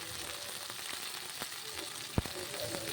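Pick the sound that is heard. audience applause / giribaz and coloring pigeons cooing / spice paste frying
spice paste frying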